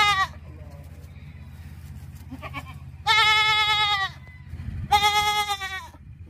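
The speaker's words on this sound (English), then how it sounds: "G for goat." A goat bleats in two loud, wavering calls with a gap between them, close to the microphone, over a low background hum.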